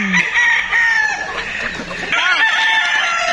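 Young gamecocks (stags) crow at a game farm in the Philippines, giving loud, close, drawn-out cock-a-doodle-doo calls with a second crow following, over faint farmyard background noise.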